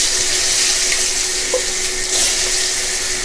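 Cut potato pieces coated with salt and turmeric fry lightly in hot oil over cumin and dried chilli, giving a loud, steady, close sizzle with faint clinks and no speech.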